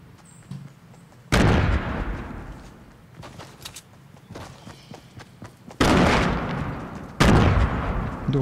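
Bursts of AR rifle fire in the Fortnite battle royale video game, three loud sharp volleys with quieter scattered shots and thuds between them, close and forceful.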